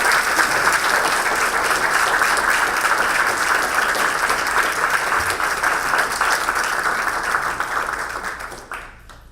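Sustained applause from a press conference audience welcoming a new athletic director, a dense, even wash of clapping that holds steady for most of the clip before tapering off at the end.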